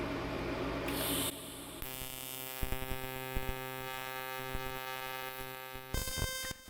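TIG welder tacking aluminum with helium shielding gas at about 200 amps, a steady electrical hum with several short crackling bursts as each tack is struck, fairly close, with no talking.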